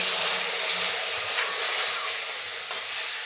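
Boiling water poured a little at a time into roasted moong dal for halwa, giving a loud, continuous hiss and sizzle that runs steadily throughout with no voice.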